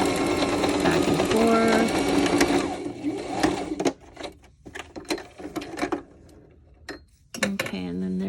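A sewing machine runs in close, rapid bursts while stitching a messy back-and-forth zigzag, loud and steady at first, then stopping and starting in short runs with a voice talking alongside.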